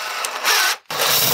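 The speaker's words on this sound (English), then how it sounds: "now I need to sink in the space for the bolt head" Countersink bit cutting a recess for a bolt head while finishing a counterweight for a Libreflip build, a steady broadband whir with a brief stop partway before it resumes, close and fairly loud.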